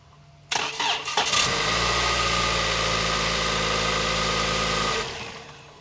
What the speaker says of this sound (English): We're going to crank the car, leave the microphone so you can hear it.